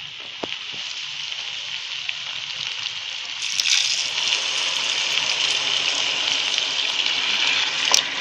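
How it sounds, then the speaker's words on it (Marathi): Boiled hot water poured into a pot of soaked rice for chicken biryani, a steady hissing gush that swells louder midway and keeps running, with no voices. "आता आपण पाणी टाकूया."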